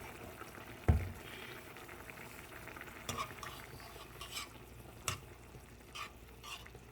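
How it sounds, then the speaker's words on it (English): Spoon stirring ketchup into a thickening fish sauce for Jamaican-style red snapper, a quiet scraping swirl with a couple of sharper knocks against the pot and a soft background bubble. "Gonna give it a stir. And like wanna mix in your ketchup."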